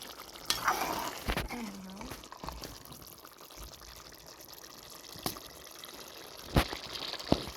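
Dried fenugreek leaves (kasuri methi) being stirred into a quince and apple curry in a pan, with a few scraping spoon strokes and soft clatter over a low, steady background.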